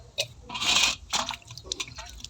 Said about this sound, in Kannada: ಈಗ ನಾನು ಸ್ವಲ್ಪ ನೀರು ಹಾಕ್ತಾಯಿದ್ದೀನಿ